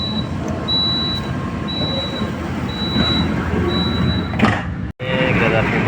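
Automatic door closing warning aboard the KA Majapahit passenger train: four evenly spaced, long high beeps over the rumble of the carriage, followed by a sharp thud and a brief drop to near silence.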